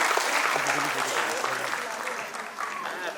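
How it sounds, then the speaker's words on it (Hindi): Audience applause at a felicitation ceremony in Chandigarh, steady and dense throughout, with faint voices mixed into the crowd noise. "जोरदार तालियों के लिए"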